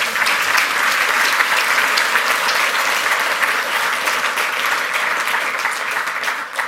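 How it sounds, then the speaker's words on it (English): Dense, sustained audience applause at a hacking and darknet talk, a loud continuous wash of many hands clapping that holds steady for nearly seven seconds before easing slightly at the end. "Give this guy a round of applause."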